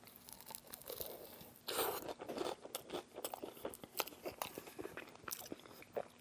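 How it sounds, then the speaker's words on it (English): Close, crisp bites and steady chewing of a big burrito packed with crunchy Fritos, with a loud crunch early on and then continuous munching and crackling that keeps coming in quick bursts. "Immediately got a crunchy Frito."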